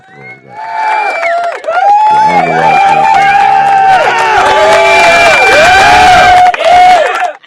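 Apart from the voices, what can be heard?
played applause sound effect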